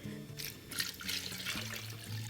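Water running and splashing into a pot holding chicken pieces, a soft steady pouring wash that stays faint and close with no talk.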